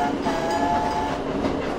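A train in the Thief fan mission Patriot rolls past with a steady, loud rumble and clatter, a faint sustained whistle-like tone riding on top, continuous with no voices.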